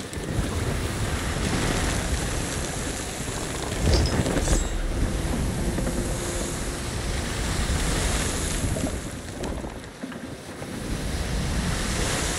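In the Sea of Thieves video game, wind rushes and ocean waves surge around a sailing ship. The sound is a loud, continuous roar of surf and gusts with rolling swells, and nobody speaks.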